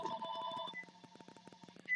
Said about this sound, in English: There's the phone ringing.